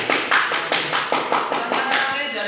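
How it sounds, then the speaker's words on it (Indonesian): A classroom group clapping in a rhythmic, evenly spaced beat, about ten sharp claps in a row, close and moderately loud, for a student during a teaching session. "Tepuk tangan buat dia."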